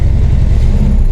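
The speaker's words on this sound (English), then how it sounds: "I think we got some exhaust rattling on the bottom of the car here" A car's exhaust rattles from underneath as it reverses, a loud, steady low rumble of the engine with loose rattling mixed into the drone, close and continuous throughout.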